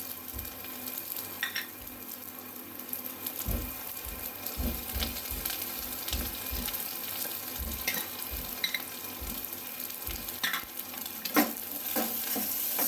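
Cabbage and capsicum stir-fried on high flame Chinese-style, a continuous close sizzle broken by repeated scraping and tossing of the vegetables, with a few sharper clinks of utensil on pan, no speech.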